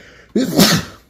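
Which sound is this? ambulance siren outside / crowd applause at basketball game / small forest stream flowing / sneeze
sneeze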